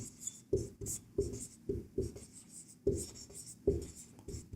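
Chalk or marker writing on a board during a maths lesson on surface area, made of short scratchy strokes in an irregular rhythm with brief pauses, close and moderately quiet.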